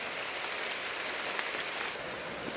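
Heavy rain falls steadily in a forest, a dense even hiss with scattered drop patters, close and unbroken, with no voices.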